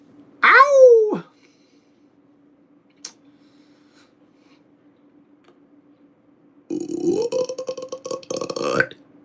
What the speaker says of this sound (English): Yeah, that's a big burp.